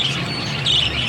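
Small birds in a small home aviary chirp in a steady, dense chatter, with brief brighter tweets standing out over a continuous low hum of background noise.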